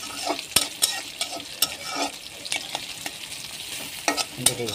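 Spices and chillies sautéing in a pan for a chicken and potato curry, with a steady sizzle and repeated sharp scrapes and clacks of a spoon stirring, close and alone with no talking.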